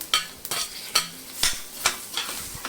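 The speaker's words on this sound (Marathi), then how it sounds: "आता हे छान मिक्स करून घ्यायचे" A spoon stirs boiled, chopped potatoes into a no-onion, no-garlic vegetable dish in a pan, making about six crisp, evenly spaced scraping strokes, close and alone.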